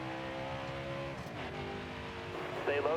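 A race truck engine in the NASCAR Heat 5 game revs up through its gears, a droning engine note that climbs and shifts in pitch, with a voice faintly present underneath.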